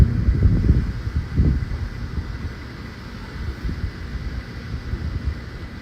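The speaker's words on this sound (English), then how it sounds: "it's like kind of stormy, really windy, and it's light sprinkling" Steady wind rumbles and buffets outdoors in stormy weather with light sprinkling rain, with stronger gusts early on before settling into a continuous low roar.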